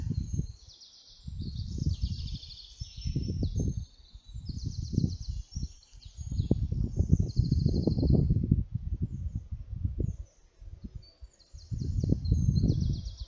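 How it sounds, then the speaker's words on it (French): A bird in the woods sings in short repeated bursts of high chirping, faint and airy, over louder bursts of low rumbling noise that come and go throughout. "un oiseau vient vers vous. Le voilà qui arrive et il vous chante quelque chose."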